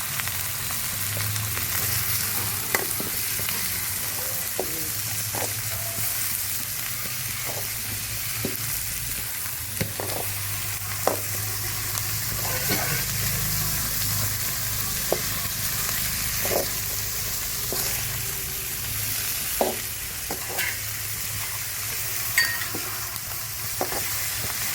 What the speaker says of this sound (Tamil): இப்போ நல்லா வதங்கிட்டு இருக்கு வெங்காயம்